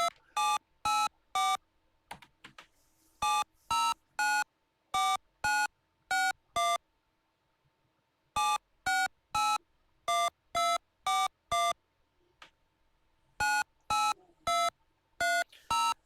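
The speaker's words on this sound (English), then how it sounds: "the two tones that make up the touch tone" Touch-tone telephone dialing tones generated by a TI BASIC program on a home computer, short evenly spaced two-tone beeps in quick bursts of several, separated by brief pauses, clear and alone.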